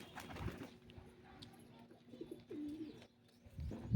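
Pigeons coo softly at a home in a rural Gujarati village, low murmuring calls recurring through the clip amid faint background noise, with a louder burst near the end.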